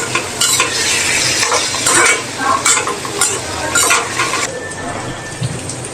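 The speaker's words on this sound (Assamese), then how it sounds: "লৰাই দিব লাগে মিক্স কৰি দিব লাগে" Tomatoes for egg bhurji stirred and mixed in a hot pan, heard as loud, close scraping strokes in an uneven rhythm over a constant sizzle. The sizzle thins toward the end, and no one talks.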